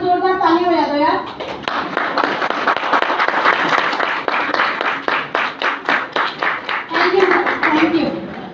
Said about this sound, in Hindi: कुछ लोगों को नींद आ रही है तो एक बार जोरदार ताली बजा दो यार